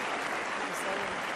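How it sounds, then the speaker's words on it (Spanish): Dense, steady applause from a large audience welcoming John Kerry, with a continuous wash of clapping throughout and a speaking voice faintly audible above it. "fíjense la bienvenida que le dan y cuánto tiempo están aplaudiéndolo"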